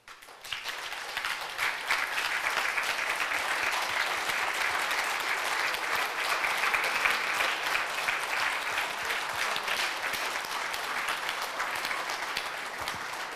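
Sustained, loud applause from a large assembly of delegates at a religious convocation, a steady even wash of clapping that holds for many seconds without pause.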